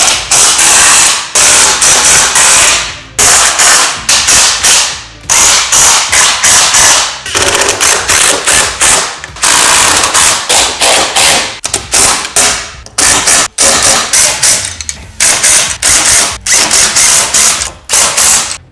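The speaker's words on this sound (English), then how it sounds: "we're gonna go through all the hardware that we left loose, tighten it all up nice and good" Rapid ratchet clicking runs almost without pause while loose mounting hardware on a Holman Clamp & Lock ladder rack is tightened on the roof of a RAM ProMaster City van. The sound is close and loud, comes in bursts, and has no talk over it.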